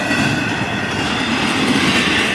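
A freight train with 202 axles passes at about 49 miles an hour, giving a continuous loud rumble of wheels with faint clacking and a high metallic whine from the rails, close and steady throughout.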